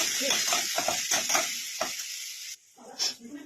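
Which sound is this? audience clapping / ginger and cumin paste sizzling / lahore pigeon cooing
ginger and cumin paste sizzling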